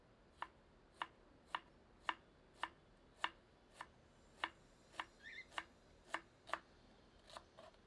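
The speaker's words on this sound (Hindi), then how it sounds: "यह एक मध्यम आकार की प्याज है। इसे फांकियों में काट लेते हैं।" A knife cuts a medium onion into wedges on a board while cooking red amaranth saag: about fourteen crisp, evenly spaced chops, fairly faint and close.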